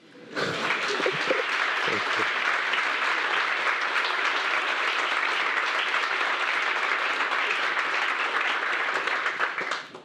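A conference audience applauds a technical presentation, a steady, full round of many hands clapping for about ten seconds, even in loudness before tapering off.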